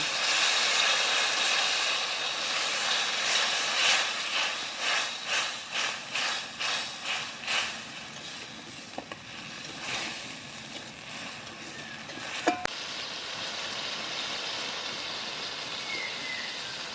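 Spices sizzle as they are fried and stirred in a pan for an okra curry, a steady hissing sizzle with a run of rhythmic scraping strokes in the middle and a few sharp clinks.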